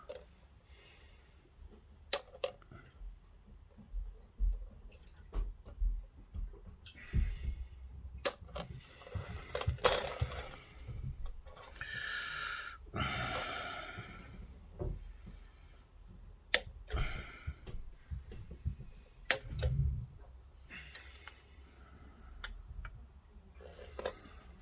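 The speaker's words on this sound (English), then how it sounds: "we're now going to cut off the sprue that we want for the cockpit" Plastic parts of an Airfix de Havilland Mosquito model kit are cut from the sprue with close, sharp snips and clicks scattered irregularly, with rustling handling noises between cuts.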